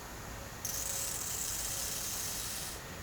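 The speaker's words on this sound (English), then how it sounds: "you should hear the powder coating machine come on" A powder coating spray gun hisses steadily at its nozzle, a broad close airy hiss that switches on abruptly and holds for about two seconds before cutting off.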